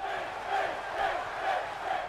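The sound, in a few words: crowd cheering in WWE 2K17 video game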